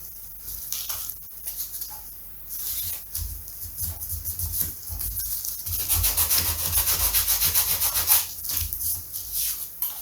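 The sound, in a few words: sanding a model airplane part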